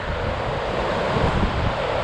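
Fast-moving river water from the Cascade Mountains, heard from beside a parked van as a loud, steady broadband rush with gusty roar and no talk.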